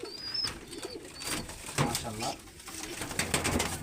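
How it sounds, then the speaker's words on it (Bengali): An imported golden pigeon chick coos softly at close range in short, throaty phrases, with a voice speaking briefly over it. "ইম্পোর্ট করা কবুতর, তার ডিরেক্ট বেবি"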